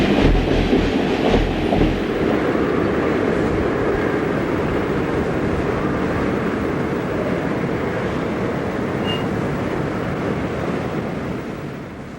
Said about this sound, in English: The commuter train moves forward